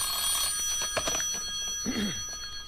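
An old telephone bell rings in rapid trills over a hissy, vintage audio-drama background, with a brief vocal sound partway through.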